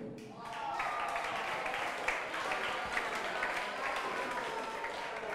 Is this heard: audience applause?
yes